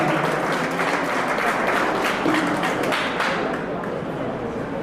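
Dense, sustained applause from an audience honouring an awardee at a Karnataka state award ceremony, loud crowd clapping that fills the space and tapers slightly toward the end, with faint chatter mixed in.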